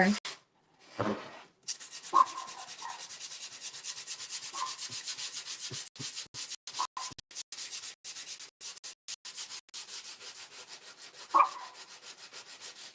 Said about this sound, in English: Let's do a little sanding here.